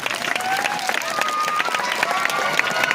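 An audience applauds at a primary school's inaugural ceremony for a school adoption program: a fairly faint, continuous patter of many hands clapping, with some crowd murmur mixed in.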